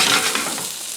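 Green tomato slices fry in butter in a pan, giving a brief, even sizzle with no voices.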